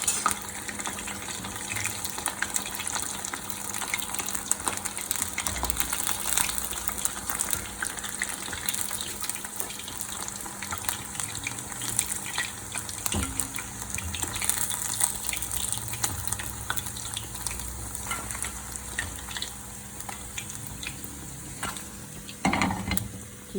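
Battered tempura chicken pieces fry in hot oil, a steady crackling sizzle running throughout, with a few clunks of pieces being moved and lifted out near the end.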